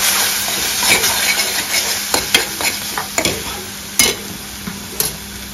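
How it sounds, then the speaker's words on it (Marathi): Freshly ground Malvani masala sautéing in a pan for clam curry, a loud close sizzle broken by repeated scraping and clinking of a spoon stirring against the pan, with no voices. "आपण चांगलं परतून घ्यायचं."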